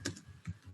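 A brief run of computer keyboard typing, a few soft keystrokes in quick succession, close and with no talk.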